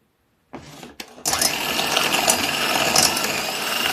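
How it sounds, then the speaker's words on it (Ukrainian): An electric hand mixer starts up and whirs steadily while beating softened butter for a cake batter, a close, loud, continuous buzzing motor with a short stutter at the start. "І збиваємо міксером."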